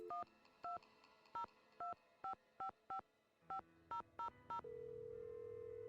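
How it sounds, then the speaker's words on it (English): Touch-tone telephone keypad beeps in a Nancy Drew game, eleven short tones in an uneven rhythm, then a steady ringback tone. "We're making a lot of phone calls in this one."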